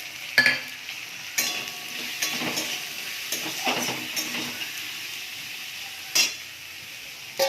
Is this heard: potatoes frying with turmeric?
yes